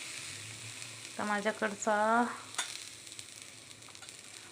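Onion garlic masala frying in a pan, a steady soft sizzle running throughout while someone speaks briefly over it.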